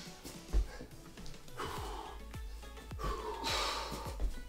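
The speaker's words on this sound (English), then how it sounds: "I'm definitely losing my breath." Heavy, rhythmic breathing from a person just finishing the last exercise of an upper and lower body mobility workout: repeated loud gasps and sighing exhales, close to the mic, with no speech.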